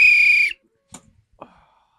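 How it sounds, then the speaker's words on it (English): A single loud, steady whistle blast held for about half a second, then cut off, followed by a couple of faint brief knocks in a quiet room. "hit that whistle right now"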